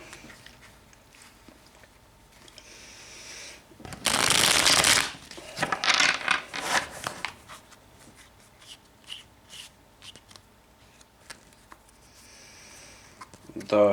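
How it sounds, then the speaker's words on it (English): Tarot cards are shuffled in loud, dense riffling bursts, one long burst followed by several shorter rustling flurries and another at the end, with quieter stretches between. "let's begin shuffling the cards"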